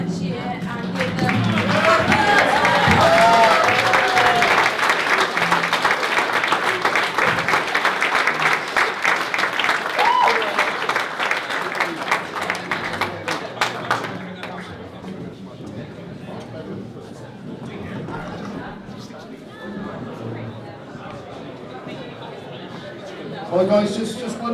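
Wedding guests stand to clap and cheer for the couple, a loud sustained roar of applause with whoops that gradually thins out over half a minute, voices chatting underneath as it fades.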